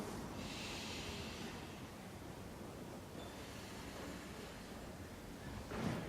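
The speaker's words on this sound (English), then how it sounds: "Through the nose, inhale, exhale out the nose." Slow breathing in and out through the nose, soft airy inhales and exhales rising and falling in broad whooshing swells against a hushy background, with no talking.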